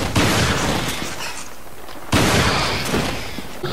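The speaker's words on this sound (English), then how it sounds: "the M3 in Revelations fires a little more faster than the standard shotgun" Two loud M3 shotgun blasts in Resident Evil: Revelations, each a sharp, heavy boom followed by a long decaying tail, spaced about two seconds apart.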